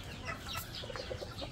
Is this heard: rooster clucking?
yes